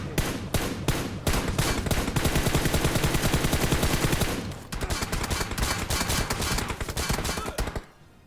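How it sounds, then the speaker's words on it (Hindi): Dense automatic gunfire crackles in BGMI battle-royale gameplay, rapid close bursts firing almost without pause, a short lull, then another long sustained stream of shots before it cuts off. "आगे से गोली चल रही है, नीचे से गोली चल रही है"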